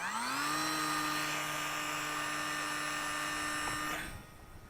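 An RC J3 Cub FireBird model plane's electric motor runs at half throttle on launch, a steady close whine with strong harmonics that holds for about four seconds, then cuts off abruptly.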